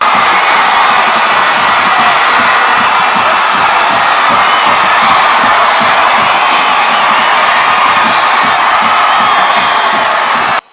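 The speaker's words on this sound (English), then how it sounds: "just listen at this crowd" A loud, roaring crowd at a 2009 high school state semifinal football game between Gainesville and Flowery Branch, with cheering, whoops and yells that stay constant, cutting off abruptly at the end.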